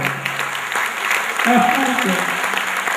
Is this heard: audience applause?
yes